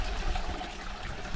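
Water trickling from a farm water pipe, a steady close splashing and gurgling flow lasting only a moment, loud and unbroken with no talk over it.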